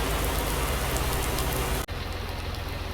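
Rain in a Roblox farm role-play game makes a steady, dense hiss of downpour. It drops away abruptly for an instant near the end, then resumes slightly softer, with no voices.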